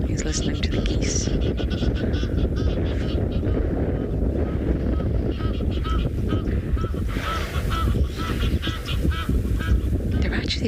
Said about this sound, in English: He's listening to the geese.